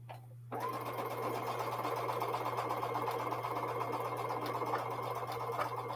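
A sewing machine stitches quilt blocks in a steady, continuous whir after a brief pause at the start, even and fairly close, with a constant low hum underneath.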